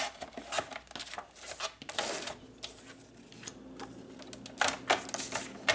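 Paper map pieces are cut for a DIY mystery folio, with a series of close, crisp scissor or blade cuts and light paper rustles in an irregular rhythm, no talk.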